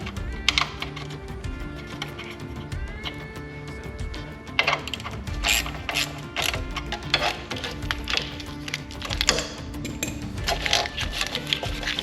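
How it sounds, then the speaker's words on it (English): A ratchet clicks rapidly and continuously while tightening the headlight ground screw on a Jeep during an LJ Hemi swap, a close mechanical pawl chatter broken by brief pauses and occasional tool clanks. "Put the screw back in."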